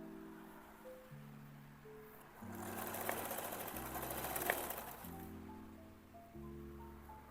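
A sewing machine stitches denim scraps in several runs of steady mechanical whirring, stopping and starting between seams, close and alone.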